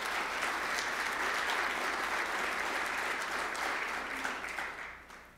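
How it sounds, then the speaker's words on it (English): A conference audience at a tech event claps steadily in a dense, sustained round of applause that holds evenly before thinning out at the end. "I kind of want to just get another round of applause for that"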